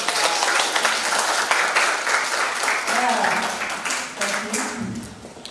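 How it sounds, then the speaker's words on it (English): A lecture audience greets a visiting lecturer with steady, dense applause lasting several seconds, fairly close and loud, with some voices mixed in near the end. "can we start today with a big applause for us this morning?"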